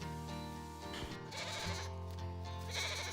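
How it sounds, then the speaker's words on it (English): Several goats bleat in short, wavering, nasal calls at a farm by a lake, one after another over a few seconds, close by and fairly clear against a soft background. "Now it's time to give some love to the naughty goats"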